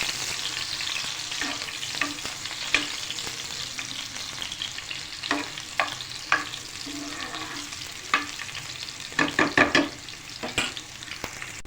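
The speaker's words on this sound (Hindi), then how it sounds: "जैसे हरी मिर्च फ्राई होने लगेगा हम इसमें प्याज डाल देंगे।" Green chilies and onion frying in a pan for a chana dal and potato curry, with a steady close sizzle and a series of sharp stirring scrapes and clatters.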